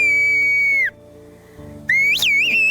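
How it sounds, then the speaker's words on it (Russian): Whistled speech calling a woman by name in a Turkish mountain village, two long loud piercing whistles with gliding pitch, the second rising and wavering, separated by a short pause. "Можете свистнуть?"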